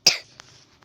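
A single sharp cough bursts out at the start, loud and close, followed by a faint breath and small soft noises fading away.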